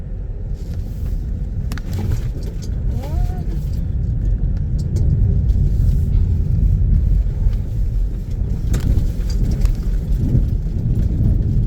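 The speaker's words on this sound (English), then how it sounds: "I'm gonna turn on my 4-wheel drive. Alright, my 4-wheel drive is on." A car rolling slowly down a hill in 4-wheel drive near a trailhead parking area, heard as a constant low engine and tire rumble from inside, with faint creaks and thumps over the steady drone.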